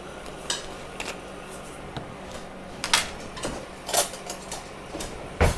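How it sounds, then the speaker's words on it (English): A spoon stirring preservative into hot, thick flax seed gel clinks and scrapes against the container in irregular bursts, with several sharper knocks near the end, close and moderately loud with no talk. "I'm just going to stir it in while it's still hot."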